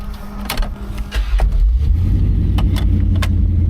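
A Chevrolet El Camino SS 396 engine cranks with a few clicks and a brief starter whir, then catches and settles into a loud, deep, rumbling idle heard up close.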